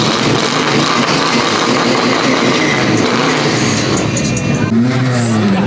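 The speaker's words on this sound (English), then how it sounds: "Rev it, rev it." A Nissan S15 revs hard at a Clean Culture Japan car meet, a loud continuous engine roar rising in pitch near the end, with crowd voices and cheering mixed in.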